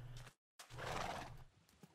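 A horse in a Minecraft survival game neighs in a loud, rough whinny after a short silence, with faint hoof clops trailing off at the end.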